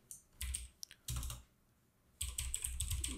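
Text is typed on a computer keyboard in two short bursts of quick close clicks separated by a brief pause.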